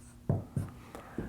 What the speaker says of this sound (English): what we could do is just write out 3 factorial as 3 times 2 times 1